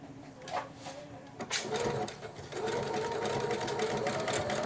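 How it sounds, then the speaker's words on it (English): A domestic sewing machine runs a zigzag stitch on fabric for an envelope cover, its motor whirring in short starts that build into a steady close run, with a voice talking over part of it. "I'm going to do the zigzag stitch."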